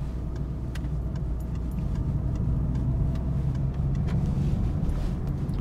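A car engine drones steadily from inside the cabin while driving in third gear on a UK road, with a constant low rumble and light ticking, no voices.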